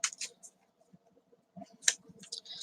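Tarot cards are shuffled by hand in soft, irregular bursts of riffling and light slaps, close by and quiet, with pauses between handfuls.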